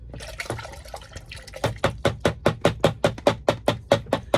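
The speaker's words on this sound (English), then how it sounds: "I'm just going to pour it all in here." Soapy water mixed with Mr. Clean glugs out of a bucket in a rapid, regular series of pulses after a brief uneven start, close and fairly loud.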